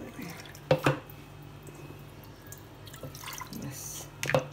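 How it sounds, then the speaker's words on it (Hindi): Water is poured into a raw mango popsicle mix, with a couple of close, sharp splashy bursts followed by a softer trickle and another splash at the end, with no clear talk. "और थोड़ा हम पानी डालेंगे,"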